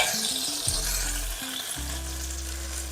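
Brinjal pieces frying in oil in a pan, a steady loud sizzle running throughout with faint clinks of stirring near the start.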